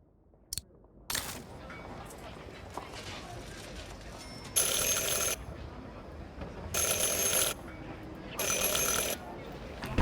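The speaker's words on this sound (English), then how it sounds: "Ring 3 times for urgent matters." A bell in the video game Syberia: The World Before is rung three times, each a bright, sustained ringing burst of about a second separated by short pauses, over a low room hum.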